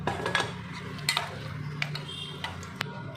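Boiled chickpeas are sautéed in a pan for a chickpea curry, with a soft background sizzle broken by several sharp clinks and scrapes of a spatula against the pan.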